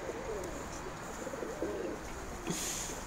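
Pigeons cooing inside a coop with newly arrived birds, soft low repeated coos rolling in short phrases over a steady background hiss, with a brief higher chirp near the end.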